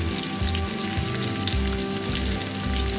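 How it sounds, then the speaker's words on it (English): Raw mango pieces sizzle and fry steadily in hot oil for a Rajasthani-style sweet and spicy mango chutney, a loud continuous crackling hiss with no one talking. "Now I'll add raw mango to this. Mix once."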